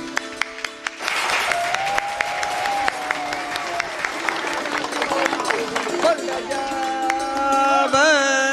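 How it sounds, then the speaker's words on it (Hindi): An audience at a religious katha gathering breaks into loud applause, a dense wash of clapping that swells after a few scattered claps and continues under music and voices. "मैं चाहूंगा जोरदार तालियों से"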